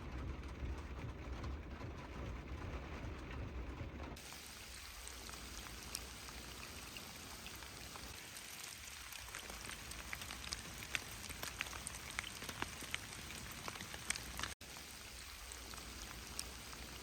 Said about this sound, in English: I worked in my cozy van while the rain came down.